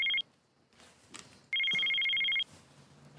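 A mobile phone rings in two bursts of a bright electronic ringtone, a short one at the start and a longer one about a second later, with quiet room noise between them and no talk.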